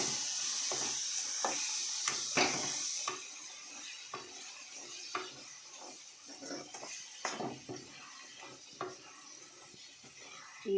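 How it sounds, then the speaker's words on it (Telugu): Tamarind leaf chutney fries with browned onions in a pan, a soft steady sizzle broken by repeated sharp scrapes and clinks of a spoon stirring against the metal. "మనం ఇప్పుడు చింతాకు చట్నీ వేసుకొని వేయించుకోవాలి."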